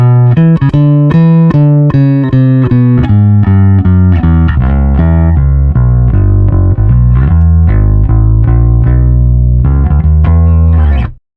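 A bass played through an Eich amp with its taste control dialed in, deep fat notes plucked in a steady rhythmic line, loud and close, ending abruptly.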